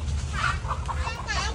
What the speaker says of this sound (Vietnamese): gà nó bay quá